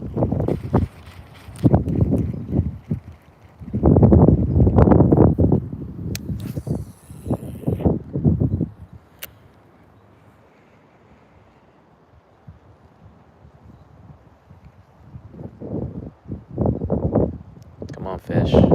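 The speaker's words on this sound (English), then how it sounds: "This time it's hella windy." Gusty wind blowing across a backyard pond, hitting the microphone in loud low rumbling bursts that come and go, with a calm stretch in the middle and a voice talking between gusts.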